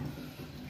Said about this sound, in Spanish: Toda esa agua que está saliendo es de la presión de los demás departamentos.